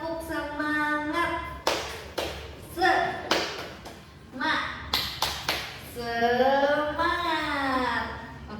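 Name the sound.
rhythmic 'tepuk semangat' group clapping ice breaker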